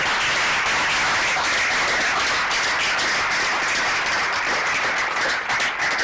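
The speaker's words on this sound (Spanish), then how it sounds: "Con esto vamos a hacer también pues otro aplauso" Applause from the audience at a poetry reading held in a high school, a dense, steady wash of clapping that fills the whole stretch at an even, fairly loud level.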